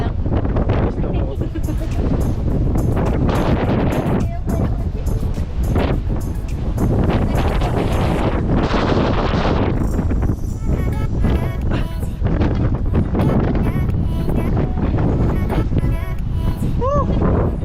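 Strong wind batters a GoPro microphone while biking on a road trip, in loud, continuous rumbling gusts, with voices breaking through now and then beneath the buffeting roar.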